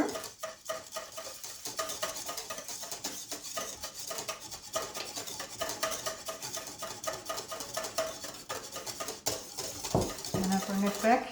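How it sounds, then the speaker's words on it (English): Hollandaise sauce being whisked as clarified butter is drizzled in, a continuous fast scraping and clinking of a whisk against a metal bowl, close and steady, with a few louder knocks near the end. "now I drizzle in the clarified butter."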